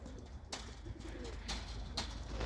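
Pigeons in a loft coo and shuffle softly against a steady background hum, with a few brief louder bursts of wing or body movement nearby; no voices.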